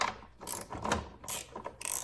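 A ratchet wrench turns a 13 millimeter nut holding the power steering reservoir on a Dodge Grand Caravan with a 4 litre engine, giving several short bursts of quick metallic clicking, close and clear.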